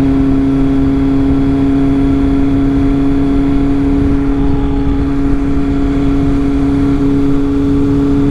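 A motorcycle engine idles steadily up close, a constant droning hum with a strong tonal whine and no talking.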